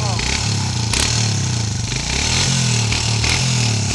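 Dirt bike engine running close by with a rough, buzzing idle that rises and falls unevenly as it is revved, while a person speaks over it.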